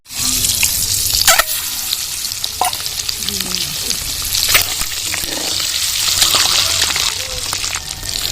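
Eggs coated in turmeric, salt and chilli powder frying in hot oil in a pan, a steady dense sizzle running throughout with a few brief clatters and stirring knocks on top.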